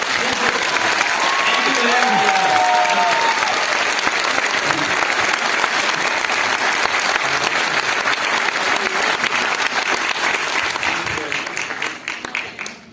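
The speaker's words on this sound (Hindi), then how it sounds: "अपने अपने अपलाइन लीडर के लिए तालियां बजा लीजिए।" A seated audience at a success training session applauds their upline leaders, loud continuous clapping with some whoops and voices early on, tapering off near the end.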